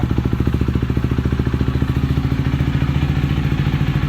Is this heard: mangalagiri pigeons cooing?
no